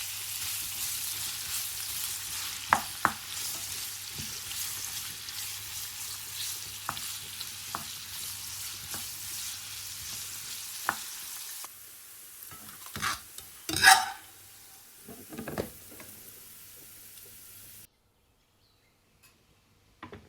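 Small batons of carrot fry in a pan for an Afghan kabuli pulao, with a steady, close sizzle and occasional stirring knocks, then the frying thins out and a few louder utensil scrapes and clanks follow before it falls quiet.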